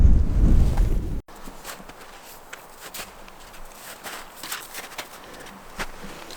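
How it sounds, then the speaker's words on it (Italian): Gusty, very cold wind buffets the microphone in open mountain terrain in the Lagorai range, with scattered crunching steps and rustling; a louder rumbling gust at the start cuts off abruptly. "C'è vento freddissimo"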